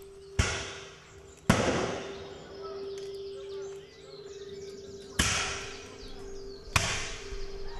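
Four sharp musket and rifle shots ring out, unevenly spaced, at a Revolutionary War battle reenactment in wooded terrain. Each crack is loud and echoes briefly. A steady tone hums underneath, with faint birds in the background.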